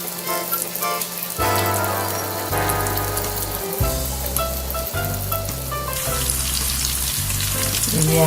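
Risoles, spring roll wrappers filled with carrot and potato, deep-fry in hot oil with a loud, continuous sizzle. The bubbling surges as each piece goes in, with no voices.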